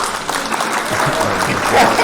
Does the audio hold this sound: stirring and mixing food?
no